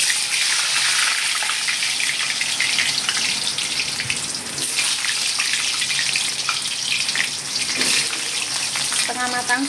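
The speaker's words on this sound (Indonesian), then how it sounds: "Kita goreng kentangnya dulu ya" Potatoes frying in a pan while a potato-and-sponge-gourd dish is cooked, a loud, steady broadband sizzle running throughout with small bursts and clinks near the end.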